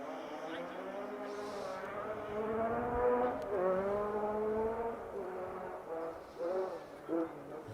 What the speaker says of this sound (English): Hear the might of the 4-wheel drives in the hills behind me, making their way through stage 2.